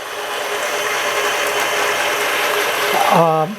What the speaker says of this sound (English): I'm going to start them going and beat them until they're kind of frothy